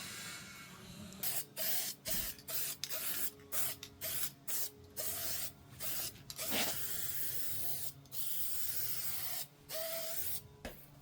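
Bursts of Duplicolor aerosol paint hiss onto faded Hummer H3 trim in a string of short, evenly spaced sprays. A longer pass follows, close and clear over a quiet background hum, with no talk.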